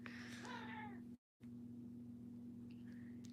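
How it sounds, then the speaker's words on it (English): A cat lets out a short trilling chirp up close, followed after a brief silence by a fainter, higher chirping call over a low steady hum. "And the cats are already starting to chirp"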